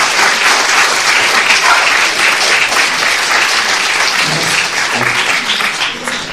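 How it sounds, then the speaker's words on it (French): Sustained audience applause at a French-language lecture on integrating spirituality into medicine, a dense steady wash of many hands clapping that fills the whole stretch and eases slightly toward the end. "C'est la première fois que je suis applaudi avec un petit chien."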